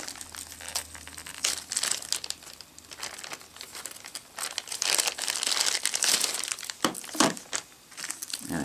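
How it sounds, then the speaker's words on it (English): A Vizio VAP430 Co-Star Google TV remote being pulled from a plastic bag, loud close crinkling and rustling in irregular bursts that build toward the end. "And let's pull it out of the bag."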